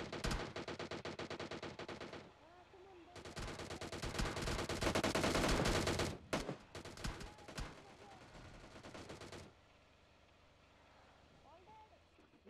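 Rapid automatic gunfire in PUBG, loud, dense bursts from the start to about 2 seconds and again from 3 to 9 seconds, under tense speech from players.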